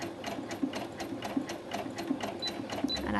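A Brother A16 sewing machine stitches steadily up close, its needle mechanism clattering in a fast even rhythm with a regular repeating thump and no voices.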